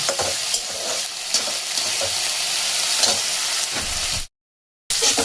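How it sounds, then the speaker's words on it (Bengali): A small tomato frying in a pan, a close, loud sizzle with bursts of stirring and scraping that carries on steadily, then drops to a brief silence before the sizzling resumes. "দিয়ে দেবো একটা ছোট্ট টমেটো, দিয়ে একটু ভেজে নেব"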